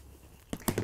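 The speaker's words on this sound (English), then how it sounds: "Simply cut up the sides," Bag fabric being cut up the sides for a weekender bag, giving a few quick, close cutting crunches after a moment of quiet room tone.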